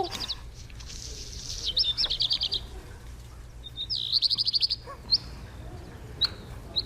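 Robin-like songbird with a royal-blue breast singing high, sharp chirping phrases in bursts, repeated trills and single notes over a steady low background hum, no talk.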